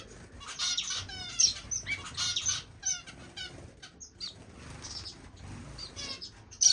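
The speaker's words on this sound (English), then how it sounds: "Look at the wax bill up there. There's the Indian silver bill next to the parrot finches." Finches in an indoor bird room, including waxbills, Indian silverbills and parrot finches, give quick high chirps and twitters in short bursts, with wings flapping now and then, fairly close but soft.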